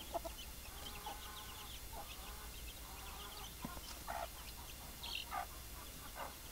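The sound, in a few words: native chickens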